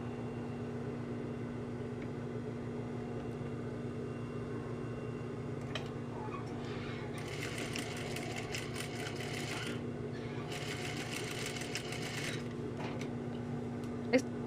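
A sewing machine joins the ends of two fabric strips right sides together with a 1 cm seam, running as a steady mechanical whir with two bursts of faster, brighter stitching.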